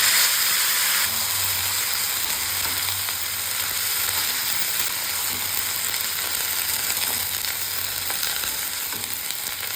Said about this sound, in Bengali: এবার আমি দিয়ে দেবো কেটে ধুয়ে রাখা সবজি।